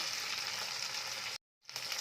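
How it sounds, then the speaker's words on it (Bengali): Spice masala frying in oil for a jackfruit and prawn curry, a steady dense sizzle that cuts out abruptly for a moment near the end, then resumes. "এইভাবে আমি এখন 1 মিনিট মতো মশলাটাকে ভালো করে তেলের মধ্যে ভাজা করে নিচ্ছি"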